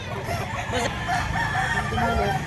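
A rooster crows loudly and clucks close by, among other chickens at a poultry sale, with faint voices in the background.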